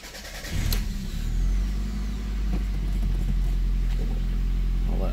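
A 1988 Toyota Celica cranks over with a sharp click and catches into a cold start, settling into a steady, fairly loud idle with a deep low rumble that holds for several seconds.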